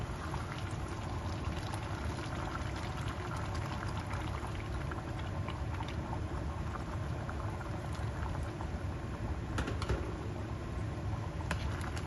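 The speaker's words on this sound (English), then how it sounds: "put the heat up high and put 3½ cups of boiling hot water" Boiling hot water poured into a pot of lamb biryani on high heat makes a steady, fairly quiet bubbling and crackling hiss that holds evenly throughout.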